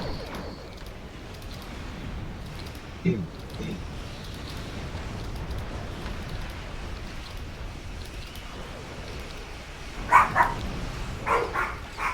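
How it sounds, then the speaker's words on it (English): Basset hounds barking outdoors in a neighbor's yard, a few distant, muffled barks at intervals over steady background noise, with a louder cluster of barks near the end. "My neighbors have basset hounds, and they're out there doing the basset hound thing."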